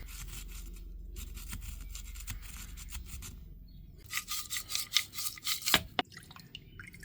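Channels in the auxiliary air valve of a Jaguar XJS V12 are scraped clean in faint, close scratching and rubbing strokes, quiet at first, then a burst of louder irregular scrapes with a sharp click near the end.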